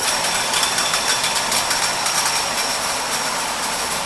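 Steady, loud mechanical roar of can factory machinery running continuously, with a dense hiss and faint rhythmic clatter throughout.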